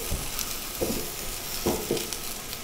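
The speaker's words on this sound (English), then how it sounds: "I'm just gonna throw these on the grill with the burgers" Vegetable scraps sizzle on a grill alongside burgers, a steady crackling hiss with a few soft knocks and pops, close and fairly loud.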